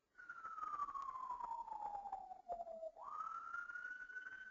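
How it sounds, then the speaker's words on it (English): An emergency siren wails in the background during an online business meeting, sweeping slowly down and then rising again, steady and fairly faint with no talk over it. "So I hear some sirens in the background, which is actually not coming from me."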